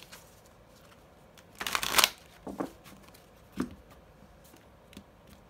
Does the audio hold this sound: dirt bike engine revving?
no